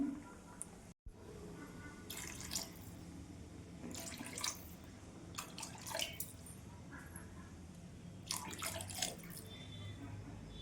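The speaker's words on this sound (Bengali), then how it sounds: "আমি জল ঢেলে দেবো" Water is poured into a pan of fried spiced potatoes in several splashing bursts over a low, steady kitchen background, fairly faint and without speech.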